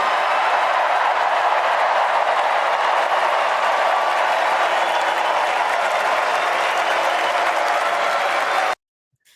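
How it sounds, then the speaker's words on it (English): Sustained thunderous applause and crowd noise from a large convention audience after Kamala Harris's presidential nomination acceptance speech, dense clapping that stays loud before cutting off abruptly near the end. "that goes on for another minute of applause"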